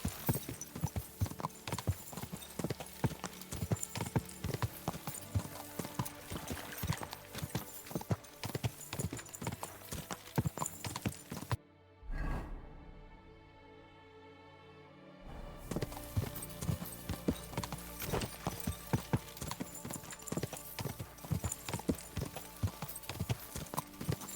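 Steady clip-clop of horse hooves in a video game, continuous and fairly loud, briefly dropping out midway before resuming at the same brisk rhythm.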